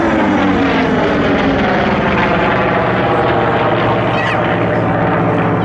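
The deep, rasping drone of a Vought Corsair's piston engine fills the air at an airshow in Melun-Villaroche, loud and sustained as the propeller warplane flies past.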